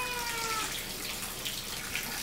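Water runs steadily from a tap into a bath while a cat is washed, a continuous close hiss with no talking.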